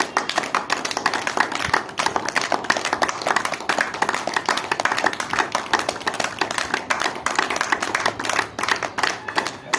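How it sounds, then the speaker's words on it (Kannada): Dense, rapid hand clapping from a group during a yoga class exercise, steady sharp claps filling the whole stretch at near range with no talk over it. "ಇಲ್ಲ, ಚಪ್ಪಾಳೆಯ ಬಡಿತ."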